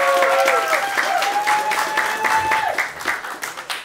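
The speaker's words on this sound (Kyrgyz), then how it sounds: "кол чаап болчу," A stand-up comedy audience clapping, dense steady applause from a crowd that stays loud before tapering near the end, with a voice briefly heard over it.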